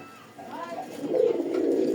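A deshi Rajgola pigeon gives a short, soft, throaty coo that rises in a couple of low pulses, heard close up against a quiet background.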